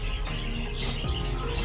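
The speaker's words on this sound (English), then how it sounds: "Some more birds, some canary." A pair of caged canaries in a farm feed store chirps in short, light tweets, fairly faint, over a steady background of store hum and noise.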